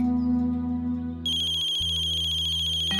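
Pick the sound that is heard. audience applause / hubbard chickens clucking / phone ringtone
phone ringtone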